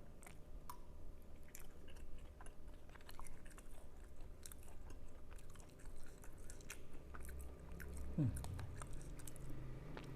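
Close, quiet chewing of a macaroni snack with egg and balado seasoning, soft wet crunching and squishing bites in an irregular rhythm, with no talking.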